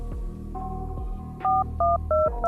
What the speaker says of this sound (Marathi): बाहेर येऊन सत्यजितने लगेच कोणाला तरी फोन लावला.